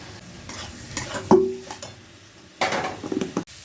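Fried potato and soybean chunks go into a pan of spice paste frying in oil, followed by scraping stirs and a crackling sizzle, close and in short bursts.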